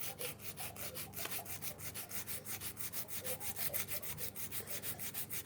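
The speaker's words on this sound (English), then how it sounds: "sandpaper" Sandpaper rubbing back and forth over a wooden kitchen gadget to remove old lacquer, a steady rhythmic scratching of about four strokes per second, close and alone.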